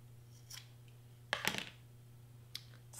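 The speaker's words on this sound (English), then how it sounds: "And then my scissors, cut this at the end." Scissors cutting paper while assembling a Lunar New Year money holder wand, a quick close double snip near the middle with a few faint clicks before and after, over a quiet low room hum.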